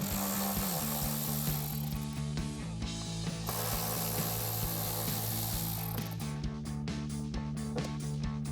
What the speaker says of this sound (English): I have my ratchet and a T15 socket. take these 2 screws out.